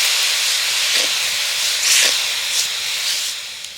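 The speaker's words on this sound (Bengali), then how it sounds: "এবার আমি চিনিটাকে ভালো করে গলিয়ে নেব।" Sugar dissolving in a small amount of water in a pan for raw mango pickle syrup gives off a continuous close hiss, with faint soft bubbling pops rising through it.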